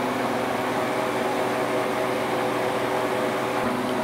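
Harvest Right freeze dryer loaded with bread, running in its drying stage, giving a continuous loud, even mechanical hum and whir with no change throughout.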